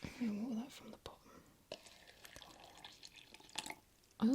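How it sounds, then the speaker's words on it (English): Water is poured to feed a potted plant from the bottom, making soft drips and small trickles. The sounds are faint and close under quiet whispered talk. "I'm going to water that from the bottom."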